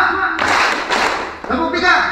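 A group plays a clapping game, striking hands together in a couple of full, simultaneous bursts mixed with voices talking nearby.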